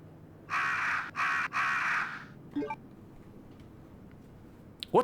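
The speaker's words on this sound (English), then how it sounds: "If I shoot at the crows, that might disturb them and they might start to attack me." Crows cawing in Resident Evil 2 (1999): three loud, harsh caws in quick succession, followed by a few fainter, scattered calls and clicks against a quiet background.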